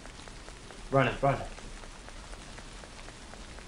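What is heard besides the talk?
rain falling in Tsugunohi video game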